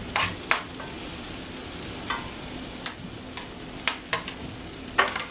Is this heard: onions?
yes